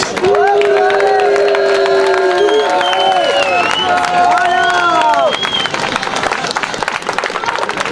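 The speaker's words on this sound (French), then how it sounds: "Un maximum d'applaudissements pour Florian Marek" Loud, dense applause and cheering from a large audience at a championship final in France fills the whole stretch, honoring Florian Marek, with steady clapping, shouts and a few voices rising over the din.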